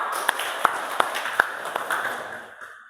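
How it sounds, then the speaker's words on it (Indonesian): A few scattered hand claps in a classroom, six or so separate sharp slaps spread over a few seconds against a steady background hiss, thin and sparse rather than a full round of applause. "oke, tepuk tangan"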